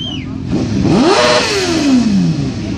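A motorcycle at a loudest-motorcycle contest in Montana, 2016, revs hard with a rising then falling engine pitch, loud and close, accompanied by crowd noise.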